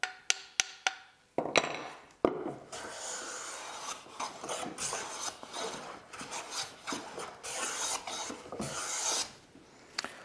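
A No. 62 hand plane shaves thin curls from straight-grained wood. A few sharp knocks open the clip, then long rasping strokes follow one after another, close and fairly quiet.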